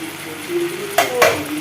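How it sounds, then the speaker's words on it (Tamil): Chili powder stirred into a frying pan of radish kuzhambu, a steady low sizzle with two sharp scraping strokes of a spoon near the end, close and alone. "மிளகாத்தூள் வந்து நம்ம போட்டு ஒரு கிண்டி கிண்டி விடலாம்"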